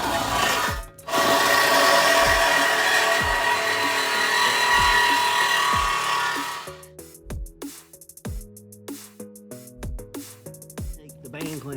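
A power tool cuts through the cobra downpipe on a Ford 7.3 Powerstroke, a loud sustained grinding roar for several seconds, then stops, leaving scattered metallic clanks, knocks and tool handling.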